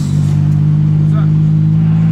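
A turbocharged car engine holds a steady, loud, droning rev during a brake boost at a car meet, with voices talking over it.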